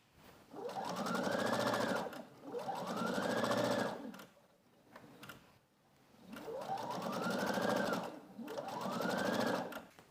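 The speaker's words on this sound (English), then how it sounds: "Okay, I'm going to go sew this and I will be right back." A sewing machine stitches a quarter-inch seam on an Adeline pillow, running in steady whirring bursts of a couple of seconds each with brief pauses between, close and alone.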